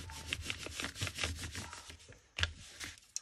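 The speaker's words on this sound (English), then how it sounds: "I can already see I'm probably going to have to trim that up a smidge." A piece of paper bag is trimmed for a journal cover, with close, steady rasping and rubbing strokes in a quick repeating rhythm and one sharper snip near the end.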